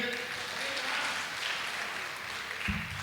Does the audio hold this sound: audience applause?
yes